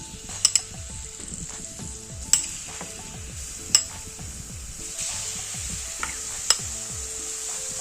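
Grated red pumpkin frying in ghee in a wok sizzles steadily up close, broken by several sharp metallic clinks and scrapes of a spatula stirring against the pan.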